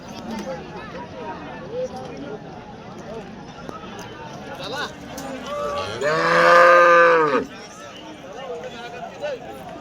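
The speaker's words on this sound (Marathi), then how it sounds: "अशा प्रकारच्या जर्सी गाई मित्रांनो या बाजारामध्ये गाई" Jersey cows moo loudly nearby at a busy livestock market in Vadod, one long low call rising over background chatter and animal shuffling.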